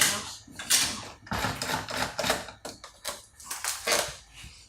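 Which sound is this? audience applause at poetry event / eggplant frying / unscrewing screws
unscrewing screws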